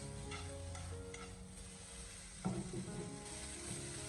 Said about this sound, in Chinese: 我们将米粉给它仔细的翻炒一小会